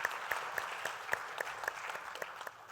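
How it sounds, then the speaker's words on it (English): A small audience at a talk gives a faint, brief round of applause, scattered hand claps standing out from a soft background clatter that gradually tapers off. "Let's give him a round of applause as he"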